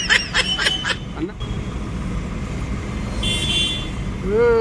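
A loaded truck's engine idles and rumbles steadily in the background for several seconds, with brief horn-like tones near the start and people talking over it.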